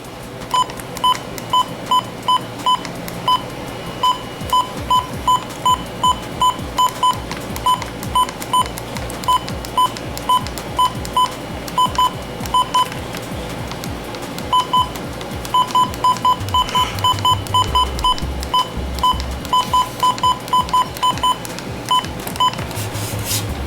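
A series of sharp electronic button beeps from a Midland WR120 first-generation weather radio sounds over and over in quick runs and pauses, crisp and close against a faint electronic hum.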